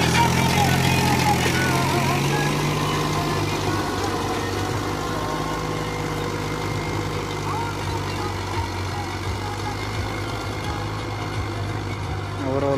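Steady low drone of an old Mahindra 265 DI tractor engine pulling a six-tine plough through dry soil, continuous and close throughout.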